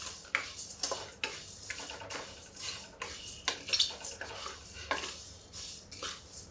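Gram flour (besan) being stirred into a namkeen mixture of puffed rice in a pan, with repeated scraping strokes of a spoon against metal in an uneven rhythm, close and fairly clear, with no talking.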